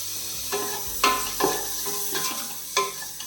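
Chopped tomato sizzles in a pan for a chicken biryani, with a soft frying hiss and several distinct scrapes and knocks of a spoon as it is stirred, close by and without voices.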